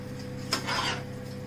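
Rice and fruit being mixed together for Kashmiri pulao in a pot, a brief scraping stir of utensil against the vessel over steady kitchen hum, close and moderately quiet.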